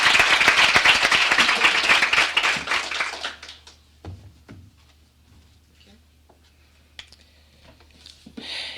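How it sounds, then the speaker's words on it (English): A round of applause from an audience at an event honoring female veterans, dense clapping for about three seconds that quickly fades, followed by a few stray claps and quiet room noise. "So I still like to give her a round of applause."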